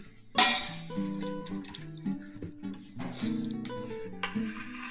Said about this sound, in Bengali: এবার আমি মাছটাকে থালার মধ্যে ঢেলে নিচ্ছি